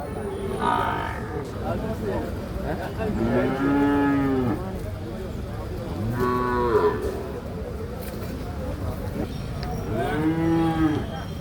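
A jallikattu bull at a cattle market in Chattiparamba, Malappuram lets out three long, deep moos spaced a few seconds apart, loud and close, over a busy crowd murmur.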